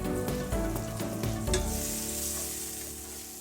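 Leeks sizzling and frying in a skillet, a steady dense crackle with stirring scrapes and small pops, close and loud throughout.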